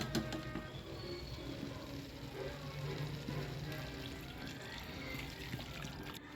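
Hot water is poured into a pan of mutton curry that is frying with oil and chilli powder, making a steady, soft trickling and pouring sound that runs throughout.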